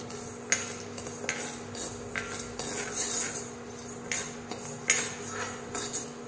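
Horse gram dry-roasts in a pan on low heat while a spoon stirs it, making repeated close scraping clinks and rattles of the metal spoon against the pan and the dry grains, with no talk.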